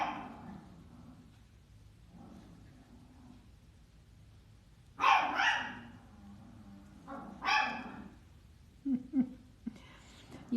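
A dog barks in a hallway, sending several short, sharp bursts in separate clusters from a moderate distance, with faint talk and low room noise in between.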